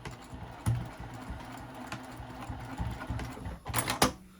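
Sewing machine backstitching back and forth across the end of a zipper on a flat-bottomed fabric pouch gives a soft, steady mechanical whir. A couple of sharper clicks come toward the end.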